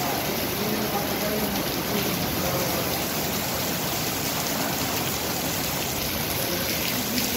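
Heavy rain in Sirsa, India, coming down with strong wind, a loud, steady hiss of falling water and gusts that never lets up, with a voice speaking faintly beneath it.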